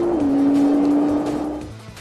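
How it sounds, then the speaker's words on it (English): Nissan GT-R launch-control start: a loud, steady engine roar held at high revs with tire squeal, sustained for about two seconds before easing slightly at the end. "the GTR produces the most crushing acceleration of virtually any"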